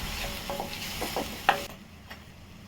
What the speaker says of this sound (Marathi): परतून घ्या छान सुगंध आला हिरव्या वाटणाचा जिऱ्याचा दोन ते तीन मिनटं छान त्याला परतून घेऊया